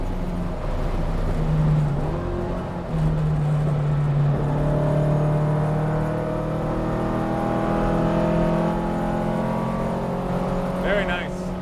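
A Mustang races on a track with a steady, loud engine drone whose pitch shifts as it accelerates, and a person talks over it.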